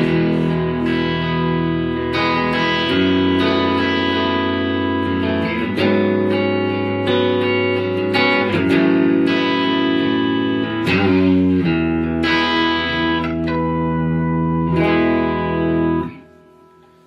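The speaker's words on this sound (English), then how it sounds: "I can bring the volume back and crank that gain up to where it was." Electric guitar played through an amp with volume lowered and gain cranked up, a run of distorted, reverberant chords and riffs, loud and continuous for about sixteen seconds before stopping abruptly.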